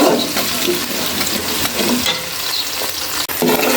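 Bay leaf, cinnamon and cardamom frying in hot oil in a pan for a rice dish, giving a loud, close, continuous sizzle with scraping stirring noises and a brief break near the end.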